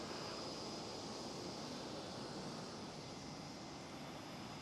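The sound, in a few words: aircraft at Schiphol airport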